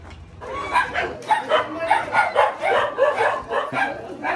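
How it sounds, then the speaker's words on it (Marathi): Several dogs barking at a newcomer arriving at a home during Gauri Ganpati visits: rapid, overlapping yips and barks nearby, continuous over a few seconds, with a faint rooster-like call mixed in. "नवीन माणूस आला आहे, कुत्र्यांचा गोंगाट पुरा."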